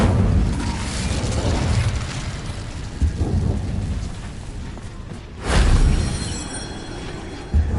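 Incendio fire spell cast in the video game Hogwarts Legacy: a loud, continuous rushing roar with a stronger whooshing surge near the end, no voices.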